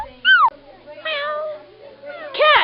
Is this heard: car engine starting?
no